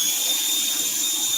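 A power drill boring a hole through a wooden board during an Adirondack chair build, giving a steady, loud, high-pitched motor whine that holds unbroken and alone throughout.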